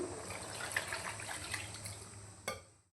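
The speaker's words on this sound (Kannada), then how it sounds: "2 ಲೋಟ ನೀರು ಹಾಕ್ಕೊಳ್ತಿದ್ದೀನಿ." Two glasses of water pour steadily into a pot of goat head and leg curry for a few seconds, a broad watery rush ending with a small clunk near the end.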